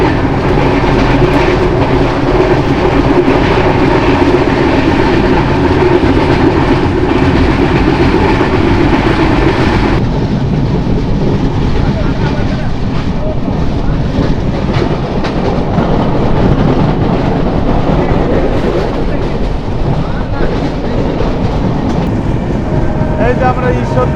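The Sagardari Express runs into Ishwardi junction with a loud, continuous rumble and rattle of wheels and carriages, and voices mix in at times.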